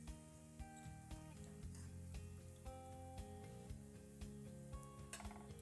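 Castagnole, small Italian carnival dough balls, frying in hot oil, giving a steady, close crackling sizzle that runs throughout under soft background music.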